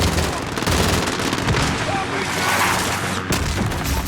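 In Call of Duty: Modern Warfare (2019), gunfire targets a helicopter as dense, continuous rapid automatic bursts with booming impacts, loud and close throughout, with radio-style voices mixed in.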